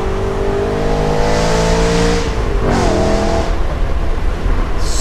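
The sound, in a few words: sports car engine revving while driving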